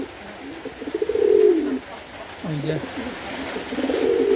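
Pigeons in a loft coo softly in a few rolling, throaty calls spread across a few seconds, close by, with a person briefly speaking over them.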